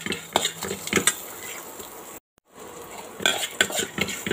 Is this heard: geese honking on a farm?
no